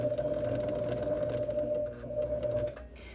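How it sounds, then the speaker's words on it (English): Sewing machine stitching a straight line through paper, a steady close mechanical hum with a constant drone that runs evenly, then eases off slightly near the end as the stitching stops. "sew down to the end of the line as you would normally"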